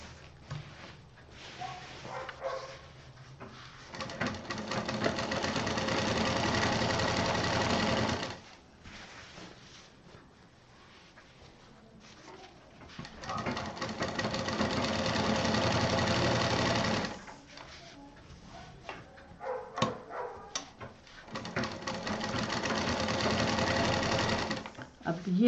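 A sewing machine stitches piping onto the pocket fabric of a fridge cover in bursts of rapid, loud whirring that stop and restart, with a voice talking between the runs.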